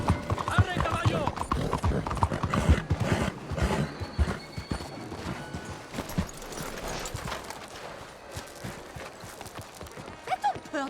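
Horse hooves clip-clopping in Red Dead Redemption 2, a steady run of hoof strikes that continues for the whole stretch, heard under people talking, with occasional whinnies.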